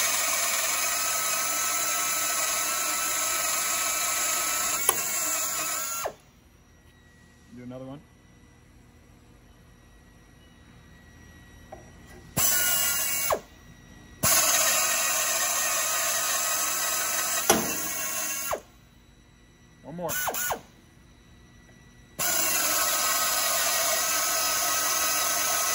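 Reamer held in a Jacobs chuck sizing a hole in a machine shop, with a loud, steady machine whine that cuts off and restarts several times, leaving quiet gaps with brief faint sounds.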